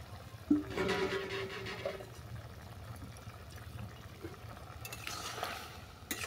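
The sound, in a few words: stirring fried shrimp with potato and cucumber in pan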